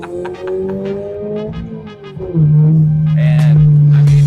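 A Subaru BRZ accelerates hard at full throttle, its engine loud and rising in pitch from inside the cabin, then dropping briefly before settling into a strong, steady drone.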